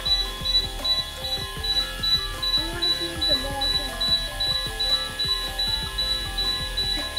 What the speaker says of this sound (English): what's that beeping sound?